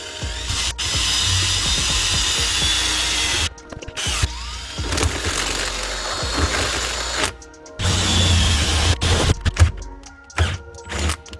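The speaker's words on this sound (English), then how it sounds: "I'm using a 5/16 drill bit." A power drill with a 5/16 bit bores in several long whirring bursts, loud and close, separated by short stops and a few clicks, during a shifter install.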